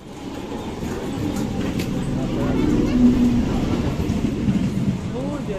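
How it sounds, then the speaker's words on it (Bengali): A local train pulls into a railway station platform with a continuous low rumble and rolling clatter that builds slightly in the middle, heard alongside platform crowd noise. "এই যে আমাদের ট্রেন ঢুকে গেল"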